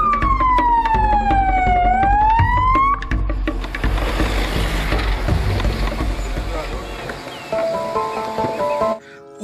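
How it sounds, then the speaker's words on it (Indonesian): A toy ambulance siren wails with a rising and falling electronic tone, loud and close, followed by a busy clatter of toy noises and a brief beeping tune. "mobil ambulans"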